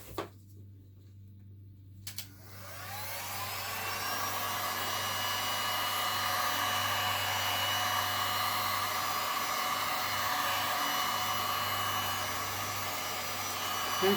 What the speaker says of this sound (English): Very good heat gun.